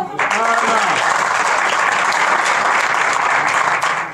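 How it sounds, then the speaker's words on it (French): An audience at a youth conference applauds steadily, a dense wash of clapping hands with a few voices calling out briefly at the start. "Allez, on applaudit."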